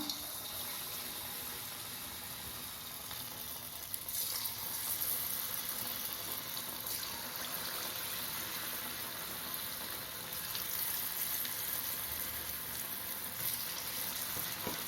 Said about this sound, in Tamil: ஒன்று ஒன்றா போட்டு வறுத்து எடுத்துக்கலாம்.